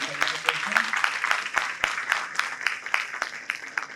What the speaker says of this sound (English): Give a loud round of applause, guys.